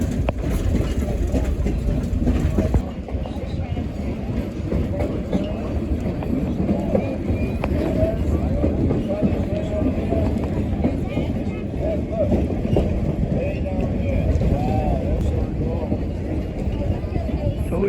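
Inside a moving train: a steady rumbling roar of wheels and carriage, continuous and fairly loud, with indistinct voices murmuring underneath.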